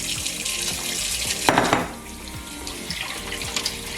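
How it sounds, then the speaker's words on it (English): Cold tap water runs steadily over cooked noodles in a sink, a continuous close hiss with a brief louder splash midway, no talking. "So just rinse them in cold water."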